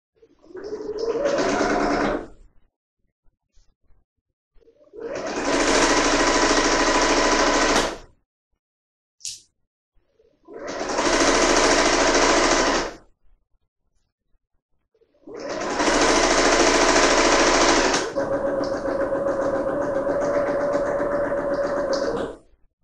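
A home sewing machine stitches a seam on a Butterick 5137 performance dress in four long, loud bursts of steady whirring, separated by short silent pauses with faint handling clicks, the last run followed by a lingering motor hum.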